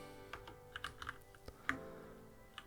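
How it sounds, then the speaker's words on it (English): Keys on a computer keyboard clack in short, uneven bursts as a command is typed at a Linux server prompt, soft and close with brief gaps between strokes. "let's see if we type Fail2Ban client"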